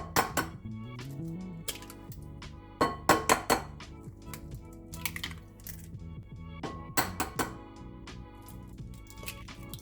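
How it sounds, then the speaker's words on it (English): Three eggs are cracked into a bowl for Sakura madeleine batter, producing a series of sharp taps, cracks and glassy clinks in small clusters, fairly close and without talk. "We're going to start by cracking in 3 eggs."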